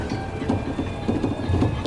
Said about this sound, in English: Got my own personal tram.